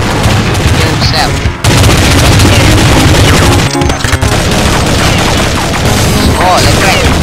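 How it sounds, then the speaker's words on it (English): Heavy game explosions and gunfire fill a Call of Duty: Modern Warfare 2014 match under an enemy airstrike, with loud booms and crackling blasts running continuously, briefly dropping out twice, and voices mixed in. "Enemy airstrike incoming"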